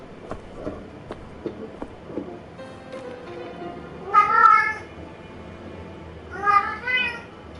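A cat meows twice inside the Agatha Christie ABC Murders video game, two clear drawn-out cries about two seconds apart over quiet background music with soft thuds.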